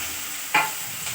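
Onions frying in hot oil in a pan at home, being stirred, with a brief loud sizzling burst midway and a softer one near the end over a steady hiss.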